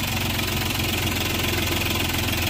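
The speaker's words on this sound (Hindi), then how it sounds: "गाड़ी जरा गाड़ी स्टार्ट करो" A Hyundai Xcent diesel engine with low pickup and a split fuel pipe runs steadily at idle, a loud, close, continuous rattling drone with no talk over it.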